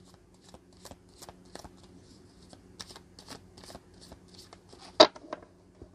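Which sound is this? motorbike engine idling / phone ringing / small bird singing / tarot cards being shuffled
tarot cards being shuffled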